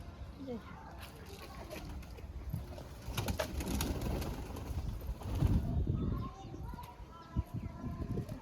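Soft pigeon coos mixed with fluttering and rustling nearby, while people talk over the birds throughout.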